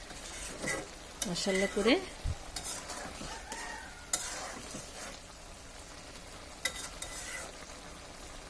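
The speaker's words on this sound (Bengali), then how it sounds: "আমার এখানে বেশি করে ধনিয়া পাতাটা নেওয়া আছে, হালকা নেড়ে দিচ্ছি" Pea ghugni with a generous handful of coriander leaves is stirred in a pot, a spoon scraping and clinking against the metal over a soft sizzle, with a brief spoken word partway through.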